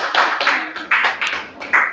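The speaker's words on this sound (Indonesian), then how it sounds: "tepuk tangan untuk kelompok" A classroom group claps for a presenting team, a few short bursts of close, fairly loud hand clapping, uneven and scattered rather than a long ovation.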